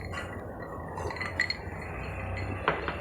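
Glasses clink together in a toast, two brief light chimes over a steady low background hum, with no talking.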